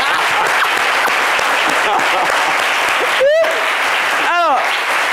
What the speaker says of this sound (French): Applaudissez pour la deuxième pièce